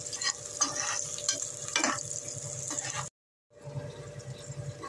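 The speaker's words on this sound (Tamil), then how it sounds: "அப்புறம் லவங்கம் 2 போட்டு வதக்கின்றிருக்கேன்" Cloves and spices sautéing in a pan for vegetable biryani, giving a close, steady sizzle with scraping stirs, cut by a brief silent gap before the frying resumes.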